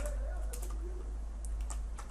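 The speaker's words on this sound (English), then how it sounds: "So let's start by typing" Soft, quick keyboard clicks tap in short irregular clusters over a low steady hum, faint and close.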